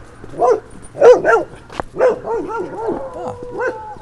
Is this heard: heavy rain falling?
no